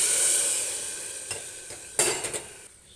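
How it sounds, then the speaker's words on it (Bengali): Water poured into a pan of fried potatoes for a Bengali potato curry, raising a bright steady sizzle that fades slowly, with a few utensil clinks near the end; no one speaks. "আলুগুলো ভেজে নিয়েছি এরপর আমি পরিমাণ মতো জল দিয়ে দিচ্ছি"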